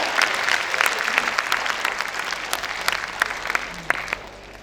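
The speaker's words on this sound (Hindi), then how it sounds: "प्लीज तालियां बजाएं यार" A seminar audience claps steadily as guests arrive, the applause dense and sustained at moderate loudness with a few sharper individual claps throughout.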